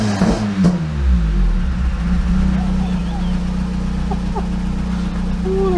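A car with an ME221 engine management unit is held on launch control at 3000 RPM, its engine giving a loud, close, steady droning rev with a brief rougher burst at the start.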